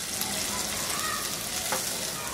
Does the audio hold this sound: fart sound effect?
no